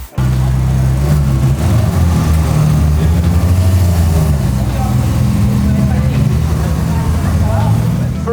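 A Ferrari 430 Scuderia on a racetrack holds a deep, steady engine drone heard loud and close from inside the car. A voice talks over it throughout.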